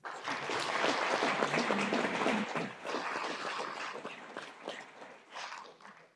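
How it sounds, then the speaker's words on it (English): A council meeting audience gives a round of applause for an absent nominee, steady clapping from a roomful of people that holds strong for a few seconds, then thins and tapers off. "So even though he's not here, a round of applause."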